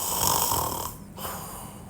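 Someone narrator imitates a woman snoring, a loud raspy drawn-out snore, then a short pause and a quieter breath.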